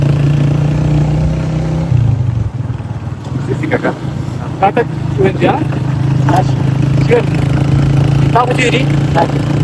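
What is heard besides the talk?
125cc motorcycle riding on a mountain road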